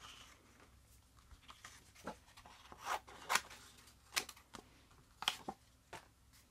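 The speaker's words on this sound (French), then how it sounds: "Je vais découper." Scissors snip out a traced paper shape for a drinking-straw craft, giving soft, intermittent cutting clicks and paper rustles, close and quiet.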